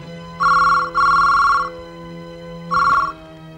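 A telephone rings in three electronic bursts: two close together, then a pause and a shorter third ring, clear and near over a faint background hum.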